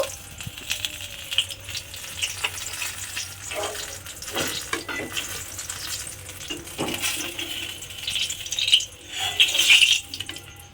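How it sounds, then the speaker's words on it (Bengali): Steady oil sizzling as eggplant slices fry in a pan, with occasional stirring scrapes and bursts of louder crackle toward the end. "বেগুনগুলোকে আমাকে একটু লাল করে প্রথমে ভেজে নিতে হবে।"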